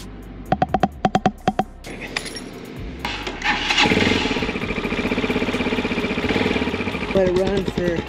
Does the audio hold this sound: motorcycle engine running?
yes